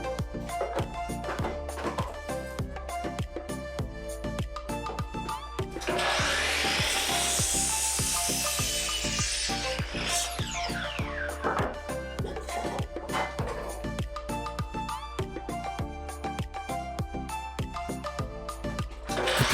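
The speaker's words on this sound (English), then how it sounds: "Cut the length on the compound miter saw." A compound miter saw cuts through 2x4 lumber in one loud whining burst lasting about four seconds, close by, with background music playing throughout.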